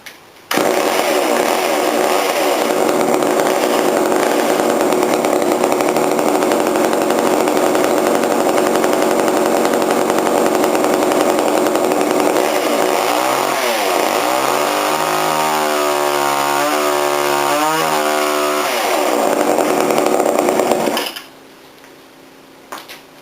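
A 1977 Poulan Micro XXV 25cc chainsaw running after a fuel line repair, a loud, close, sustained two-stroke buzz with a revving rise and fall near the end before cutting off abruptly.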